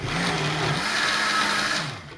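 A blender whirs loudly at a constant pitch, churning an entire jar of honey, with a slight dip in its drone partway through and tapering off at the end.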